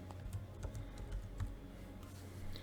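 Steady, quiet tapping of keys on a computer keyboard as a search term is entered on a crypto trading site, with soft clicks in a short run and no talking.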